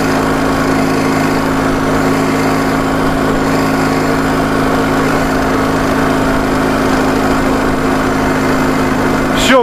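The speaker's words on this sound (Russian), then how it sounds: "Не то ранее. Стук появился." Small motorcycle engine with a knocking fault and weak pulling power runs steadily and loud up close, a harmonic drone with a buzzy texture and no clear pauses, ending in a brief rising sweep.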